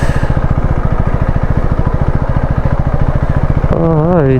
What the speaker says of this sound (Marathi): बाईक पण जाते आतमध्ये